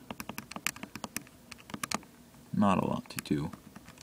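Rapid, crisp mouse clicks from playing the puzzle game Pegs tap out an irregular patter close to the microphone, briefly overlapped by someone speaking near the end.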